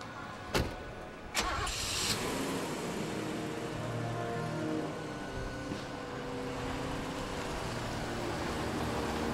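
A car engine cranks and starts with two sharp bursts, then idles and pulls away under steady traffic noise, at moderate distance.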